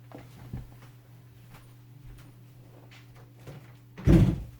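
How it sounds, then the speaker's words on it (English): A door being shut indoors: a single loud, close thump near the end after a few seconds of quiet room tone with faint soft knocks. "I had to shut my door."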